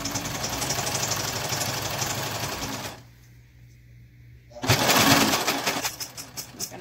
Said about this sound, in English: I will go back and do that with my sewing machine in a moment.